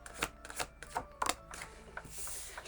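Tarot cards are shuffled by hand in a quiet room, giving a few soft, irregular clicks and papery taps over a couple of seconds.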